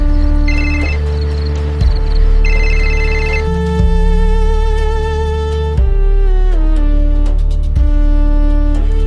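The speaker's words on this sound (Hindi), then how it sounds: "अब मैं भी प्रिया को एक बार फोन लगाता हूं।" A telephone rings during an outgoing call as a loud, steady electronic ringtone melody of repeating tonal phrases, heard alone without talk.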